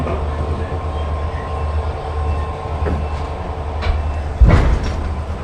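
The Amritsar-Bikaner Superfast Express, hauled by two locomotives, rumbles steadily with a deep, continuous rolling noise and a sharp metallic clank or screech rising near the end.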